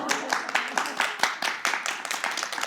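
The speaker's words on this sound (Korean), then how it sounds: "우리의 박수 치셔도 됩니다" Audience at a Korean investment talk clapping in a steady, dense burst of applause, fairly close and continuous throughout, with a few voices mixed in beneath the hand claps.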